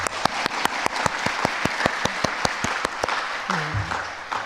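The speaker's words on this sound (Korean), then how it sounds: "제가 수고하셨습니다 하면 박수를 한번 해주세요" Rhythmic unison clapping from a congregation at a church children's Christmas service, steady evenly spaced claps filling the room, tapering off near the end.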